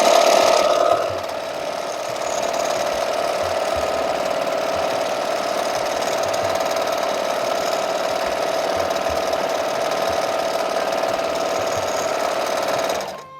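A sewing machine running flat out for free motion quilting, a loud, close, steady mechanical whir that holds unbroken for several seconds before cutting off at the end.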